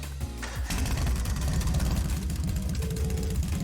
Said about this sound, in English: Right then, first is starting up the engine.